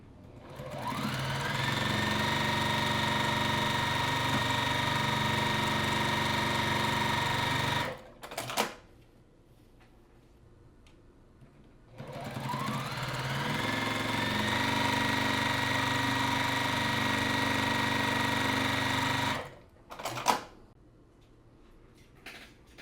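A sewing machine whirs steadily while stitching quilt pieces for a colorful quilt block, in two long continuous runs separated by brief pauses with small clunks of handling the fabric.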